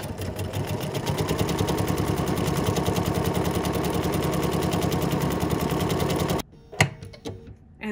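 A sewing machine runs continuously stitching decorative patterns, a fast steady mechanical rattle close by for several seconds before stopping abruptly, followed by a few faint clicks and handling noises.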